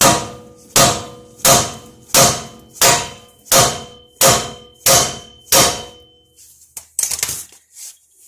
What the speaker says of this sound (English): I'm just using a 4-pound hammer